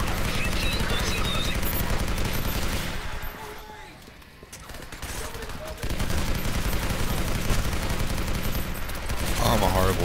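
Video game gunfire crackles as sustained, dense volleys of shots, dipping briefly in the middle before resuming at full intensity, with speech mixed in.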